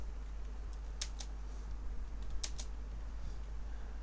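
Keys on a computer keyboard tapped while entering JavaScript code, a few sparse pairs of sharp clicks over a steady low electrical hum, fairly faint and close.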